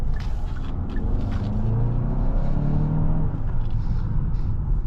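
A 2024 Hyundai Santa Fe Calligraphy SUV accelerates, its engine rumbling and rising steadily in pitch as the revs climb, heard from inside the cabin as a continuous drone.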